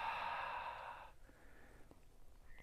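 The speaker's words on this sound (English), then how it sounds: "Every time we exhale through the mouth, we're releasing tension." A long airy exhale through the mouth in a qigong breathing exercise, close and soft, fading out after about a second into quiet room tone.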